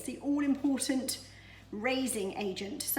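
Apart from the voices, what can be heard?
None of the usual background noises is heard.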